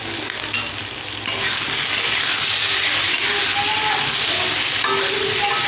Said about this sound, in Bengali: কলা আলুটা আমি ভালো করে ভেজে নেব।